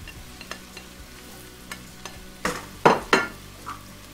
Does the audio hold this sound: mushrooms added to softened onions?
yes